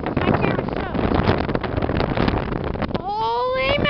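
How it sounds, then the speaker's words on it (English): Strong gusting wind during a thunderstorm at a campsite buffets the microphone in a loud, steady rush, with a voice over it near the end. "Holy mackerel, it's getting wicked windy now."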